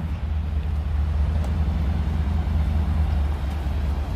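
A 6-litre Jeep on 37-inch tyres climbing a slippery slope of red off-road soil, its engine a steady, loud low rumble held at constant strain throughout, with no voices.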